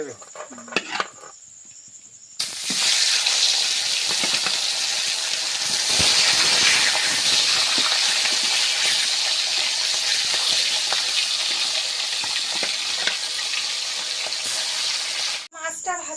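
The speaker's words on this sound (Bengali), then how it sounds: "মাথাগুলো দেবো ভাজা" Heads from a large fish go into hot oil and sizzle with a sudden, loud, bright hiss that holds steadily for about thirteen seconds, then cuts off, with quieter kitchen sounds before and after.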